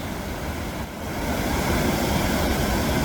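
Big Falls at Old Stone Fort State Park pours in a broad, steady roar of rushing water, loud and continuous, swelling slightly partway through, with some wind buffeting and no talk.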